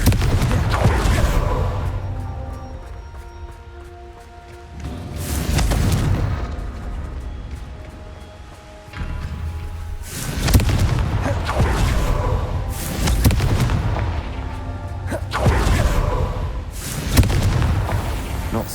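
Repeated booming Confringo spell blasts in Hogwarts Legacy, several heavy explosions at steady intervals, loud and close over a low rumbling game soundscape.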